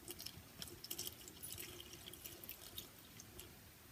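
Cold tap water runs into a container at a kitchen sink while pancake batter is being made, a soft, steady trickle with small splashes and drips, fairly quiet and without talk.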